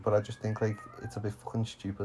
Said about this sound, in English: Sorry about the cat in the background